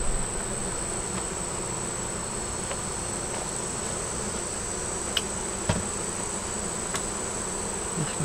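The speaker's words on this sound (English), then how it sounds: "This one here has some bees up at the top here." Honey bees buzz steadily at a hive in hot weather, a dense continuous hum with a high whine above it and occasional faint taps, no talk.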